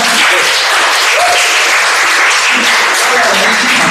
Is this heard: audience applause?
yes